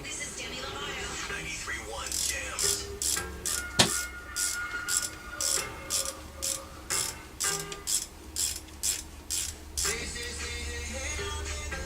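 Ratchet wrench working 12 mm caliper bolts on a 2007 Dodge Caravan during a brake and wheel hub job, a close run of rapid clicking bursts repeating in a steady back-and-forth rhythm, with a sharp clank early on.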